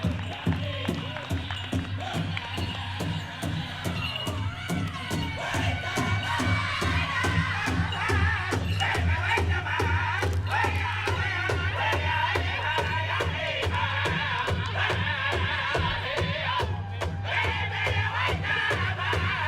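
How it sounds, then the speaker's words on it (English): Powwow crowd at a National Indigenous Peoples Day celebration erupting in loud cheers, war whoops, children's shouts and rapid clapping, a dense, sustained din with a low hum underneath and voices calling out over it. "Round of applause, everybody!"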